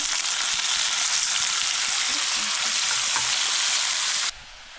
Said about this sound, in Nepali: अब यसमा टमाटर हालेर यसलाई पकाउँछौँ पहिला अनि चाहिँ चाउमिन हाल्छौँ